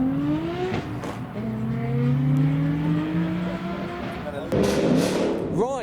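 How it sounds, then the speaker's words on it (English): A Mustang V8 revving as slammed cars leave a car show, with loud rising and falling engine notes and a sharp pop near the end, under people talking. "It's not the E92 that's revving, it sounds like a Mustang."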